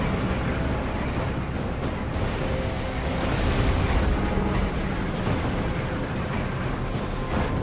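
Tank cannon fire and explosions in the video game Codename: Panzer form a dense, loud, continuous rumble of booms and blasts, with no clear gaps between them.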